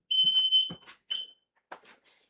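A household timer alarm sounds as a few shrill, high-pitched beeps in short bursts, broken by brief gaps and mixed with other close indoor noises.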